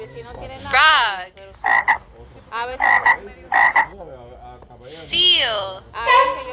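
A frog croaks in a series of close, loud, rasping calls, some short and some drawn out, with brief gaps between them over several seconds.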